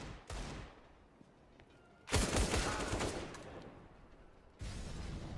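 Gunfire in a Counter-Strike match, with several bursts of rapid rifle shots in quick succession, close and loud, separated by brief quieter gaps.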